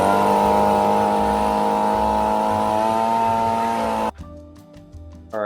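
A floor grinder runs on a floor, a loud steady motor hum with a sustained tonal whine that cuts off abruptly, leaving quieter intermittent rattles and clicks.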